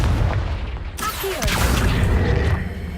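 In the video game Hogwarts Legacy, a Confringo fire spell goes off as a sudden booming blast about a second in, followed by crackling, rumbling burst noise and a whistling streak, loud and close over game ambience.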